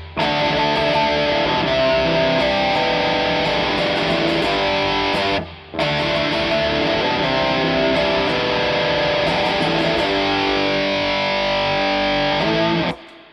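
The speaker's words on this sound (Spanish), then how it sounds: "Y ahora vamos a poner un poco de distorsión." An electric guitar plays loud, heavily distorted sustained chords and riffs through an effects unit, dense and continuous with one brief pause midway, and no talking over it.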